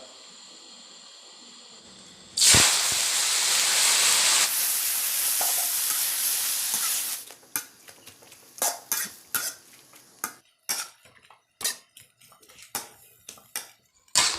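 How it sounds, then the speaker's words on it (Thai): Oil bursts into a loud sizzle as water spinach with clams hits a hot wok. The frying hiss holds for several seconds, then gives way to sharp, irregular clanks of a spatula scraping and tossing in the pan. "เดี๋ยวเราไปผัดกันเลยครับ"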